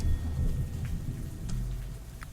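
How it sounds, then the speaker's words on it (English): Thunderous lightning strike hitting a tree in the video game Cleo – a pirate's tale: a loud, sustained low rumble with a crackling rain-like hiss throughout, standing alone without any talk. "The lightning struck directly into this tree."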